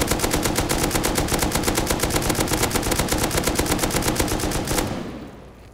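A long sustained burst of rapid automatic fire with explosive ammo in the survival game Rust, loud and evenly spaced shots rattling for about five seconds before cutting off and fading.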